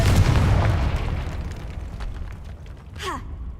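A Confringo blasting spell detonates in Hogwarts Legacy: a loud, close boom opening with a heavy low burst that decays over a couple of seconds, then a brief whooshing sweep near the end.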